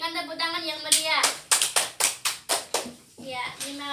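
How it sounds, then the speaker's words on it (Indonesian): A class breaks into clapping, a run of sharp hand claps with children's voices chattering around them. "silahkan kembali Saudari Anggun, kita berikan tepuk tangan yang meriah."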